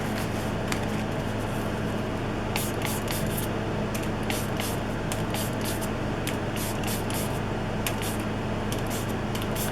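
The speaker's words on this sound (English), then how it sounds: "Might be a pink spray." Repeated bursts of homemade ink misting from a pink spray bottle onto paper, a steady close hiss broken by short sharp puffs at an irregular rhythm.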